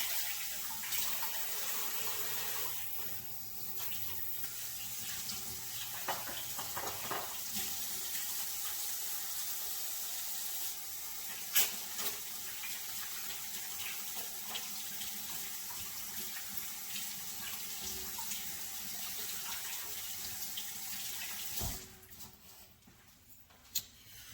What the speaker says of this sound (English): All right, back to washing my hands.